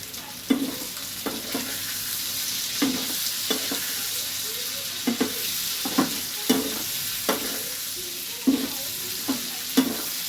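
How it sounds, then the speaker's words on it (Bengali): Rice is stirred in a hot pot for paneer pulao, with regular scraping strokes roughly every second over a constant sizzle, close and fairly loud. "আমার এই চালটা দেখো নাড়াচাড়া করা মোটামুটি হয়ে গেছে"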